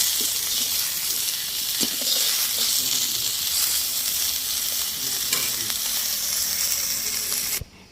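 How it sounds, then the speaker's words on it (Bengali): Fish fry with onions in hot oil, a loud, continuous sizzle and crackle with occasional sharper pops, running steadily until it cuts off abruptly at the very end. "মাছগুলাকে পেঁয়াজ দিয়ে ভাজি করলাম"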